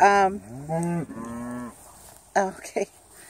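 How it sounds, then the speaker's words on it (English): Cattle on a farm let out several drawn-out moos close by, two long calls followed by shorter, sharper bellows after a brief pause. "we could milk these cows"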